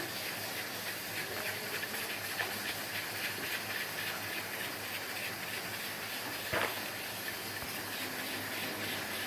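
Semolina tipped into hot oil in a pan gives a steady, even hiss of frying that runs throughout at moderate level, with one brief sharper tick near the end and no voices.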